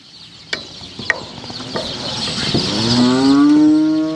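Cow being restrained for insemination, a few clanks and rattles of metal restraint gear, then a loud, rising moo that carries to the end.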